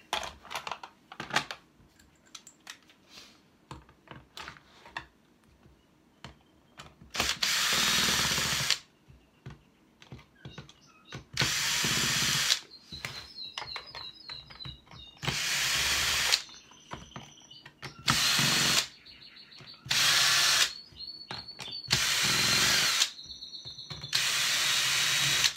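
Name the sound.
power screwdriver removing screws from a GPS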